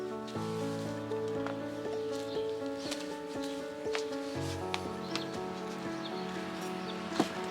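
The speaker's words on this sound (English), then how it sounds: "And it is raining right now." Light rain falls outdoors in soft, scattered patter and drips, fairly faint beneath a steady background hum.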